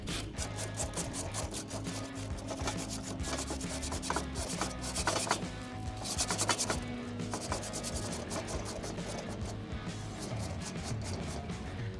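Crumpled tin foil scrubs the back side of a Weber grill's grates in steady back-and-forth strokes, a close, continuous rasping scrape with rhythmic bursts.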